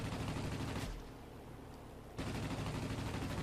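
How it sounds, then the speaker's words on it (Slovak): Rapid gunfire crackles around a ship in the aerial combat game World of Warplanes, a dense continuous fusillade that drops briefly to a quieter rumble before resuming at full intensity. "Okolo tej lodi budú lietať také guľky."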